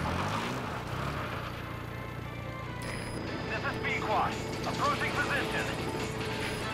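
Steady low rotor drone of a helicopter in Metal Gear Solid V: The Phantom Pain runs throughout, with a continuous mechanical hum and scattered higher tones over it, like an aircraft cruising nearby.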